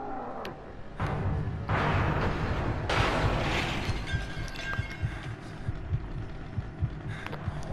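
A heartbeat in the horror game The Evil Within: steady, low, muffled thumps repeat at a regular pulse beneath a dark ambient drone, with no voices.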